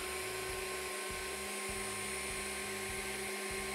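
A Dreame H12 Pro wet-dry vacuum cleaner runs on carpet with a steady, loud motor whine and low hum that pulses slightly in a regular rhythm for the whole stretch, with no voices.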